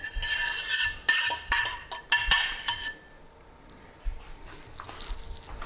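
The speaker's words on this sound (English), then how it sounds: "So this will go back into the pot." Shredded pork ragu scraped and spooned back into a pot, a close run of metal clinks and utensil scrapes for a few seconds, then quieter soft stirring noises.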